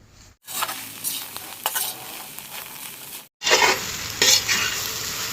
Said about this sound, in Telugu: ఈ కొత్తిమీర పుదీనా మగ్గే వరకు బాగా వేయించుకోవాలండి ఈ ఆయిల్లోనే మగ్గిపోతుంది